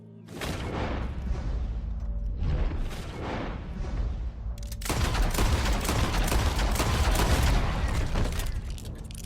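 Gunfire in Red Dead Redemption II during a beast encounter at Clements Point, several loud close booming shots followed by a dense, sustained burst of blasts and rumble.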